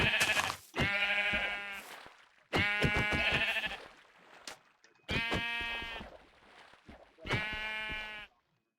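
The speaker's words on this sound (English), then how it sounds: "I think it was a sheep" Four loud, drawn-out sheep bleats from a mining and crafting video game, spaced a couple of seconds apart with near silence between them, close and clear with no talking.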